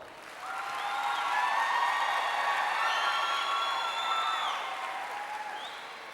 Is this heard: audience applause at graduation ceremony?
yes